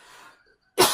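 A person with the flu gives one sharp, loud, close cough after a brief near-silent pause.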